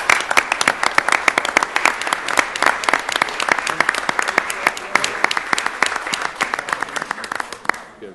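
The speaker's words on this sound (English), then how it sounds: "I'd like you at this time to help me in giving me applause" An audience claps steadily at a school board meeting to honor the North Iredell men's cross-country team. Dense individual claps run throughout and thin out near the end.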